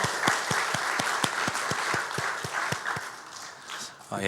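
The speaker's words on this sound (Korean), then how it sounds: "우리 감사하고 위로하는 박수 하겠습니다." A church congregation gives applause at a Sunday service, with a steady unison rhythm of claps in regular beats under a broad wash of clapping, which tapers off near the end.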